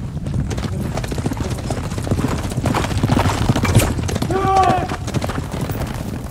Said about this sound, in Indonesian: Kita melarikan diri naik kuda.